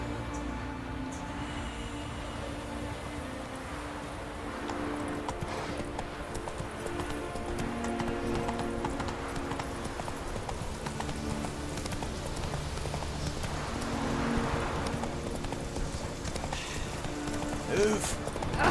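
Hooves of Roach, a horse in the video game Witcher 3, clip-clop steadily at a gallop under game music and ambience, with a voice speaking over parts of the run.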